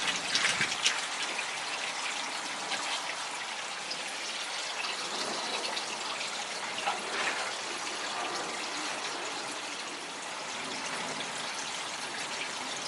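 Water from a hose rinses down through a small garden pond, a steady rushing, splashing wash heard close and continuous throughout.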